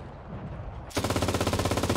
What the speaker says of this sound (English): The MG sounds gorgeous.